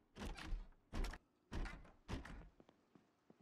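Doors in the Project Zomboid game opening and closing, a run of four loud, close thunks and slams with short pauses between them, then a few faint clicks trailing off.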